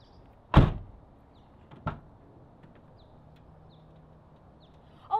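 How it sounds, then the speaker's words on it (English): An R34 Nissan Skyline's door swings and shuts twice: a loud, solid thud followed about a second later by a softer second clunk, with faint latch clicks trailing off in a quiet setting. "Open and close it some more."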